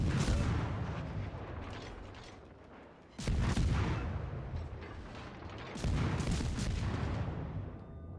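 Warship main-battery salvos in World of Warships: Legends, heavy booming volleys arriving in three distinct waves, each a loud low thump followed by a long rumbling decay, with no talk.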